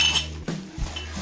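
Ceramic cups for green tea being handled, a few light clinks and knocks close by against a quiet background.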